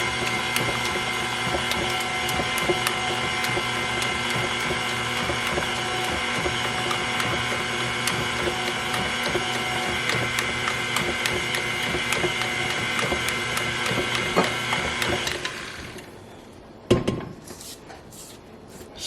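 Sweet potato pie filling with vanilla and cinnamon is beaten steadily in a bowl, giving a dense, continuous whirring churn at close range that cuts off near the end, followed by a few clunks.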